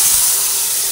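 A little water poured into a hot pan of frying sesame seeds and green chillies sends up a loud, steady, close hiss of steam that holds for the whole second.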